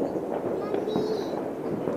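New Year fireworks burst outdoors on a cold night in Finland, a steady rumble of distant crackling and popping under faint voices.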